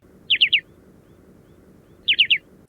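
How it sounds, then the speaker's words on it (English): Short-billed dowitcher giving its staccato call, two bursts of three quick, high, clear notes about two seconds apart, alone and fairly close over a faint background. "The short-billed has a staccato toot-toot-toot"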